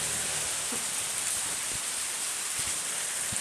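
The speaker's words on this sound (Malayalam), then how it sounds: "ഇപ്പം മച്ചന്മാരെ നല്ല അടിപൊളി മഴയാട്ടോ നമ്മളവിടെ പെയ്തുകൊണ്ടിരിക്കണേ." Heavy monsoon rain pours down steadily in Kerala, a dense unbroken hiss with a few low thumps of drops hitting nearby surfaces.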